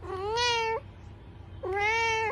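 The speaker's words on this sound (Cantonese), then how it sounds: "你隻野貓啊！" A cat gives two clear, drawn-out meows close up, separated by a short quiet gap, with no other sounds around them.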